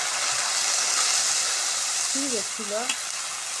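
Spice paste of ground masala, chili powder and salt sautéing in a pan, giving a steady broadband sizzle throughout, with a brief spoken phrase near the end.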